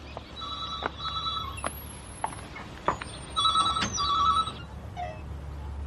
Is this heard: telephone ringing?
yes